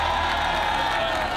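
A large crowd cheers and shouts at a Squid Game-style marbles challenge event, a dense, loud, steady roar of many voices lasting a moment without letting up.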